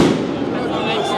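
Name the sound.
firecrackers exploding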